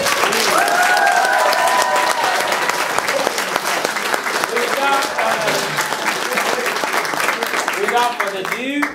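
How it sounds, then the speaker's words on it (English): An audience applauds a writer at an evening event, with steady, dense clapping that stays loud and close throughout, joined by a few cheers and scattered voices within the crowd. "if you could give him a round of applause"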